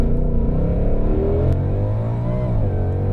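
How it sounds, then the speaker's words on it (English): Ford Mustang Shelby GT500 launching hard from about 3,000 RPM, its engine a loud, deep, sustained roar with harmonics climbing steadily through the gears, heard close and without talk. "Tracy said I could try launch control, and that's what we're going to do."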